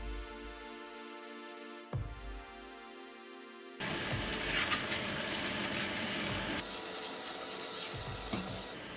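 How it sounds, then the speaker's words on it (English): Sautéed onions stirred in an oiled pan give a loud, steady sizzle with scraping strokes that start partway through. A quieter hum comes before it, with no talking. "Add oil to the pan. Add the sautéed onions and stir for 10 minutes."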